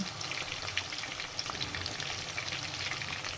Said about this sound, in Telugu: అలాగే వేపాలి బ్రౌన్ కలర్ వచ్చేంత వరకు